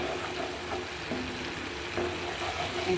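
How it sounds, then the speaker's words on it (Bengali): Food sautéing and sizzling in oil in a pan as it is stirred and cooked down, a steady close crackle with occasional scrapes of the spoon. "দেখেন সুন্দর করে রান্না করছি আমি সুন্দর করে কষিয়ে নিচ্ছি"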